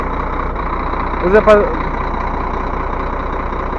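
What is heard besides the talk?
truck engine idling before driving onto blocks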